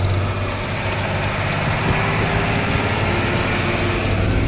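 Heavy traffic backed up at the Nagrota bypass, cars and trucks sitting in a jam: a dense, continuous rumble of idling engines with low droning hum, loud and close, no talking.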